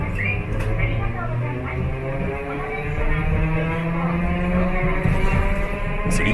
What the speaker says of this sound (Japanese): 釣りかけ駆動の独特のモーター音が心地よいです。